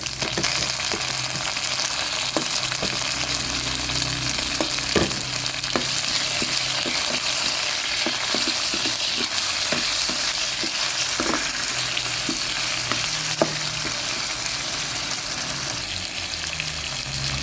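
Garlic, onion and tomato sauté in oil for pinakbet, a steady close sizzle with frequent stirring scrapes and clinks throughout, no talking.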